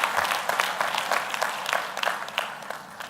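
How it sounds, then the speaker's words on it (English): A graduation crowd at Strathmore University applauds the Strathmore Leos, a dense, continuous patter of clapping at moderate volume with no talk over it. "Big round of applause for them."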